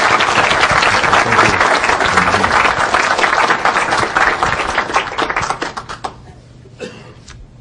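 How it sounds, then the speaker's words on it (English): A conference audience at a linear collider workshop in Chicago applauds in a steady, dense burst of clapping that thins out and fades near the end. "I think they both deserve a round of applause"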